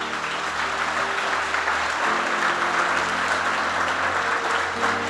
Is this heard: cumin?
no